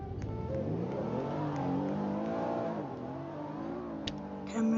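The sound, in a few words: truck engine revving in a truck video game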